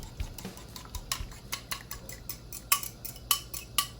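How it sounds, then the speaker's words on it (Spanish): A utensil stirs eggs into pasta carbonara in a metal pan, with quick, repeated clinks and scrapes in a steady rhythm, close and fairly crisp. "Agregamos los huevos y rápidamente vamos revolviendo"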